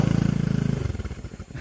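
Motorcycle engine straining hard on rough, steep forest terrain, a loud pulsing low drone that falters and breaks into rattling, uneven chugs as it loses power, alone without voices.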